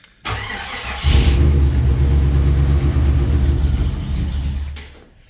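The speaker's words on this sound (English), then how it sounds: "I'm going to turn it on" AMC 360 V8 cranking, catching and settling into a loud, steady idle close by on a cold day after sitting for two weeks, running about four seconds before fading.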